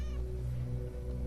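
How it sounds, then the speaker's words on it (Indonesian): A cat gives a meow with clear harmonic tone early on, heard over a steady low hum, with no talking. "Kucing. Kirain apaan."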